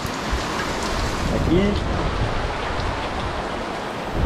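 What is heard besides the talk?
heavy rain shower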